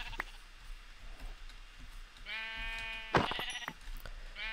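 Sheep bleating in the video game Minecraft, a short, clear bleat that stands out over quiet game ambience, preceded by faint clicks.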